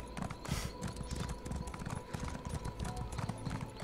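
A horse in The Elder Scrolls Online clip-clops along at a steady, even gait. The hoofbeats are close and distinct over game ambience and continue for the whole stretch, with no talk.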